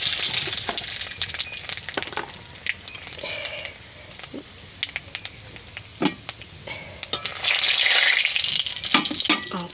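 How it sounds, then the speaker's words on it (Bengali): Green chillies and black cumin fry in hot oil, a loud crackling sizzle with sharp spits and pops that swells toward the end, heard up close with no voices. "কাঁচা লঙ্কাগুলো তেলে দিয়ে দিলাম।"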